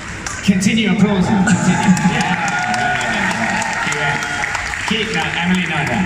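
Audience applause at a Paris Manga convention panel for Once Upon a Time, steady and dense clapping filling the hall, with cheers and voices mixed in throughout.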